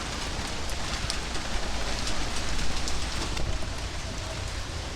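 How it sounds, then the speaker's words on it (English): Steady downpour from a sudden outdoor rainstorm, a dense, even hiss of rain with no pauses, filling the whole stretch. "we got a bit of a freak rainstorm going on out here"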